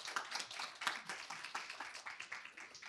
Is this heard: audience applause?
yes